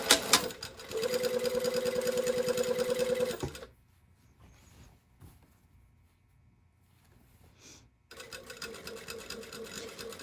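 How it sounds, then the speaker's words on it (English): A sewing machine stitches close to the folded edge of a shirtdress sleeve placket with a rapid, even mechanical whirr, then stops for a few seconds of near silence before the stitching starts up again. "So now I'm just going to sew really close to this folded edge."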